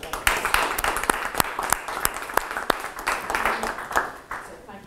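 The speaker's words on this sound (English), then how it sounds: "we actually should give you Viviane a big round of applause for getting this evening together" A round of applause from an evening audience at a think tank event with an ambassador, steady dense clapping with sharp individual claps standing out, moderately close.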